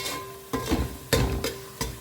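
Masala with coriander and cumin powder cooking on a low flame in a pan, several sharp stirring scrapes spaced about half a second apart over a soft steady sizzle.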